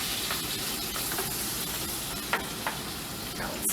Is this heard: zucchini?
yes